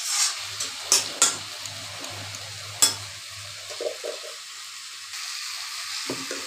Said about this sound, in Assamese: আৰু অকণমান সেয়া লৰাই বিলাহীখিনি সিজিবলৈ দিম।